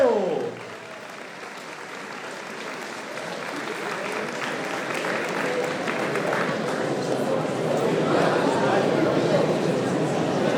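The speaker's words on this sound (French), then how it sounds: "On peut les applaudir bien fort." Crowd clapping at a 10 km road race podium ceremony, a dense, sustained round of applause that swells slightly toward the end, with a voice over a loudspeaker at the start.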